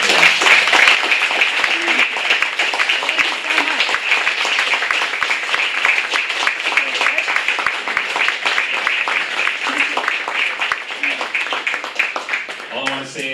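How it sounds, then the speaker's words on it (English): Sustained audience applause for Rebecca Watson at a Skeptics in the Pub event in Hong Kong, dense and even clapping filling the room for over ten seconds before it fades near the end. "Can I get a big round of applause for Rebecca?"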